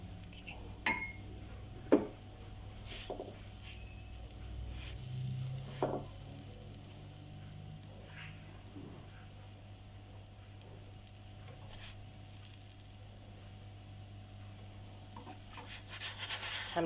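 Roti for homemade dhal roti fries in butter in a pan with a low, steady sizzle, broken by a few soft knocks and clinks of a utensil against the pan near the start.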